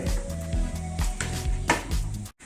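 Poha, flattened rice, being stirred together with fresh coriander leaves in a hot pan, giving a steady close sizzle broken by rhythmic scraping strokes of the spoon, with no talking.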